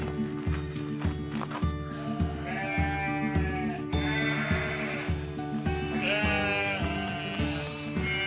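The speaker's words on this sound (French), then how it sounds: "on a amené quelques moutons ici" Sheep bleating repeatedly in a nature reserve, several animals calling at moderate distance over a steady low rumble and background noise.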